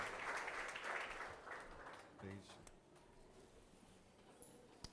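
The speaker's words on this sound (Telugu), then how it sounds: "చప్పట్లతో పాస్టర్ గారిని ఆహ్వానిస్తాను" Applause at a Telugu worship service as a pastor is welcomed, a crowd clapping fairly softly and fading over a few seconds, with some speech mixed in.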